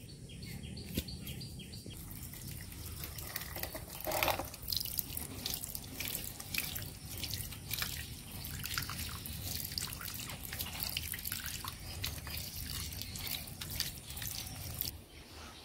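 Running water rinses a potted plant and its pot outdoors, a steady faint trickle and drip with occasional splashes, distant birds chirping in the background.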